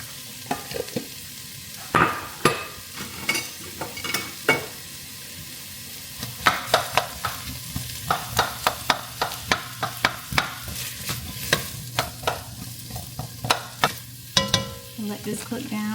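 Onions and peppers dumped into a pot for lasagna soup: a steady sizzle under a long run of sharp stirring clacks and knocks against the pot, irregular at first and then frequent, with no voices.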